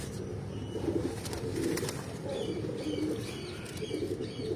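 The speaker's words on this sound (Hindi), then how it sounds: "ये बड़ा कबूतर है।" Pigeons in a fancier's loft in Tando Allahyar, Sindh, coo and rustle steadily over a dense bed of flock noise, with faint chirps and occasional wing flutters close by and no talking.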